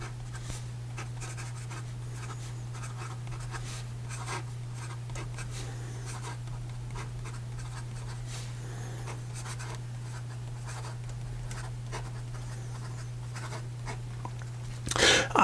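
A music nib fountain pen writes on paper, a long quiet run of scratchy strokes close up over a steady low electrical hum, ending in a brief louder rustle.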